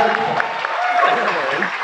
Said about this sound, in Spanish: ¡Fuerte el aplauso para Tipo!